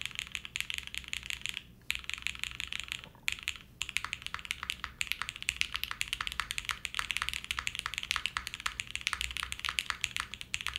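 Typing on a Mode Envoy 65% keyboard with Gateron Pro Speed Silver switches and lattice mounts: a close, steady stream of rapid keystroke clicks, broken by two brief pauses.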